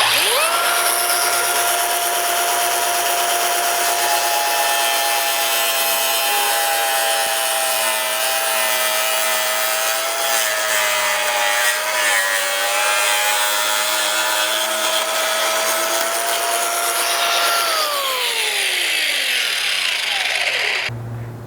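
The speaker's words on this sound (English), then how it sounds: "with our grinder, we're going to be cutting toward the inside of our tape line here" An angle grinder cuts along a tape line into the front bumper of a 2022-or-newer Toyota Tundra, giving a loud, continuous high-pitched whine that holds steady for about twenty seconds, then winds down as the tool stops.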